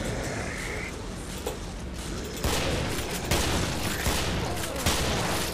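Rapid gunfire rattles through a Killing Floor co-op match, dense crackling bursts with a few heavier booms stacking up, loud and continuous over the game's background noise.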